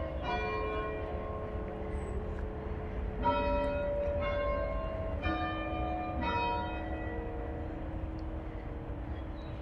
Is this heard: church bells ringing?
yes